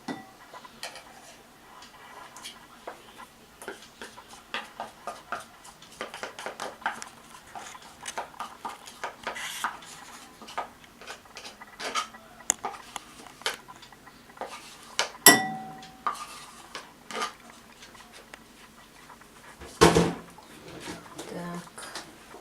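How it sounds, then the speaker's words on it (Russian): Scattered clinks and taps of a utensil against a bowl as glycerin, lemon juice and other liquid ingredients for cold porcelain clay are stirred, light and irregular, with occasional louder knocks and a voice now and then. "Сначала мы смешиваем жидкие ингредиенты."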